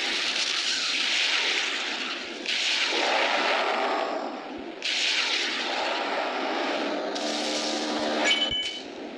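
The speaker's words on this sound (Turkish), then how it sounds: "Evet, helikopter." Helicopter in a custom-mission video game: a loud, continuous roaring engine drone that swells and eases in broad waves, with a sharp crack near the end, no talk.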